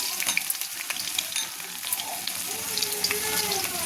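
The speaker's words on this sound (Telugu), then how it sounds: "ఆయిల్ మనకి బాగా హీట్ అయింది కదా. ఫస్ట్ అయితే నేను అల్లం ముక్కలు అయితే వేస్తున్నాను." Pieces of ginger and garlic sizzle loudly in well-heated oil in a pan for a morning pasta. A bright, crackling fry runs throughout, with scraping stirs and a few small clinks. Nobody speaks.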